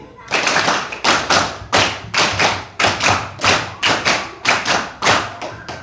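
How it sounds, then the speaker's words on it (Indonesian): Children in a classroom clap in unison, beating out a steady pattern of roughly fifteen crisp, evenly spaced claps that form repeated groups of five, loud and near. "Sekarang konsentrasi tepuk lima tiga kali."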